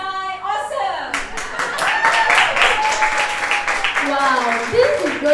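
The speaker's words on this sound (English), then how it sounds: "at the top of your lung, happily say, Sai, awesome, and clap" An audience at the Sri Sathya Sai Aradhana Mahotsavam evening program claps steadily, with raised voices cheering and calling out over the applause; the clapping is close and lively.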